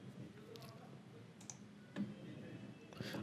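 A single soft mouse click on a website's register button rings out close and quiet, with a few faint clicks and light keyboard taps around it against low room hiss.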